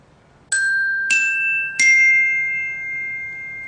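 The three-note NBC chimes jingle struck on keyboard percussion, three clear ringing metallic tones in rising succession, each left to sustain and overlap, loud and close with no voices.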